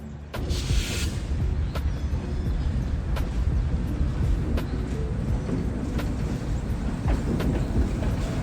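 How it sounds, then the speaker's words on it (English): A train rolls past on a branch line laid with jointed rails, giving a steady, loud rumble with faint periodic clicks from the rail joints throughout, no voices. "The branch line is all jointed rails, so it sounds pretty angelic when the train's going past."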